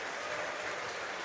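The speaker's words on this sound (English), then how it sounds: "The crowd appreciate his efforts today." Rugby crowd applauding at a Munster versus Leinster preseason match, a steady wash of clapping from many hands at an even level, continuous and alone for the short stretch.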